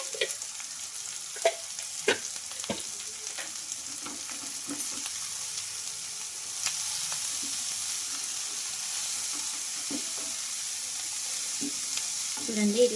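Shredded cabbage and carrot with salt fry in a pan, a low continuous sizzle broken by repeated clacks and scrapes of a stirring spoon, with the frying growing louder near the end. No one speaks.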